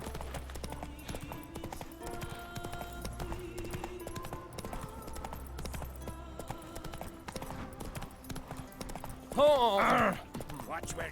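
Horse hooves in The Witcher 3: Wild Hunt, a steady clip-clop of a trotting mount under game music, with a short louder burst of sound near the end.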